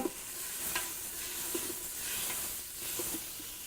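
Bacon frying in a pan gives off a faint, steady hiss and sizzle with a few soft pops and clicks, heard from a distance.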